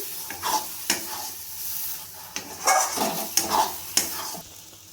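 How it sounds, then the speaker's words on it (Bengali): Mango pickle mixed with fried spices is stirred in a pan with close, scraping strokes and soft sizzling, several sharper scrapes marking the rhythm throughout. "এবার আমি ভালোভাবে নাড়িয়ে দেখে নেব, যদি দরকার হয় তবে আমি আর একটু ভাজা মশলা এর মধ্যে দিয়ে দেবো"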